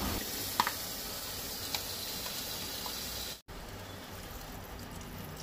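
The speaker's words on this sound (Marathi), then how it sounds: "आतां तितून सुंगटां घालून 2 मिनटां बरी परतूंक जाय।" Prawns sautéing in hot oil with chopped onion and a green chili for a Goan prawn curry, giving a steady close sizzle with a couple of faint stirring clicks and a brief dropout midway.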